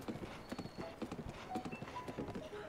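Hooves of a horse in Breath of the Wild clip-clop in a quick, steady galloping rhythm, fairly quiet and close, with small game chimes over the beat and no speech.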